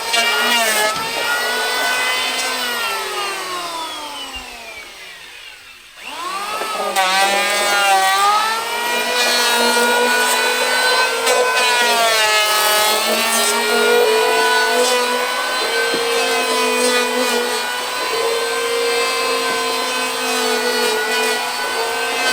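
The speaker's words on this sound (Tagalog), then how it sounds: "i-start na pala planeran." Electric wood planer running while building a wooden boat hull, a loud continuous whine that briefly winds down and drops out, then restarts and runs steadily at full speed, with no talk over it.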